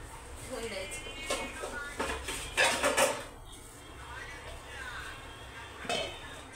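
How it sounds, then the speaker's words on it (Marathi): A lid goes onto a pan of bean curry with a few clinks and metal knocks near the middle, set against steady kitchen background noise. "झाकण लावून देऊ ठेवून द्यायचं"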